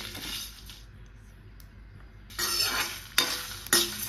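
Whole spices with dried red chillies frying in a pan, a soft sizzle interrupted by bursts of scraping and stirring with a few sharp metallic clinks of the spoon against the pan.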